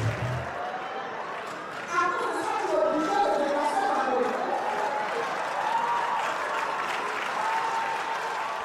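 A large crowd at a stand-up comedy show in Paris applauds steadily for several seconds, dense clapping mixed with cheers and crowd murmur, with a voice briefly audible over it.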